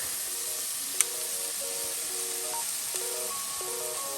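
Garlic added to translucent onion frying in a pan for beef stroganoff, giving a soft, steady sizzle with a faint tap, while light background music plays.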